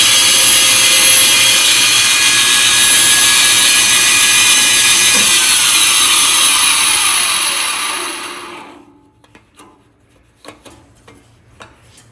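Power tool cutting wood for a golf putter, a loud continuous high whine for about eight seconds, then spinning down into silence followed by a few light knocks.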